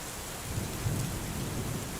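Steady rain pours with a low rumble of thunder rolling beneath it, a dense constant hiss at moderate distance with no voices.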